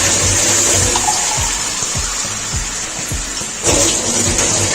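Water poured from a glass into a pot of rice for matar pulao: repeated splashing pours sounding close, with short gaps between glassfuls and a louder gush near the end.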